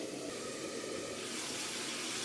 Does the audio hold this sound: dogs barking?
no